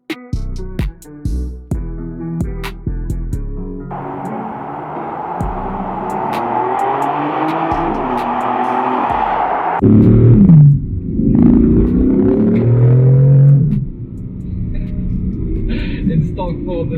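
A BMW M4 F83 rumbles through residential streets, a deep engine drone rising and shifting pitch under gear changes, loud and close from inside the car, with a person talking over it at the start.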